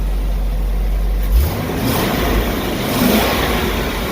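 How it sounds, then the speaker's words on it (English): A 2003 GMC box truck engine revs up from idle, rising into a loud, close, mid-pitched roar that swells and eases twice before settling, heard alone. "I'm going to rev it up."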